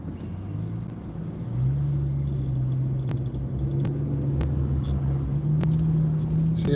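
A car drives along a road, its steady low engine rumble and tyre noise filling the whole stretch close by, with a few faint clicks over the top.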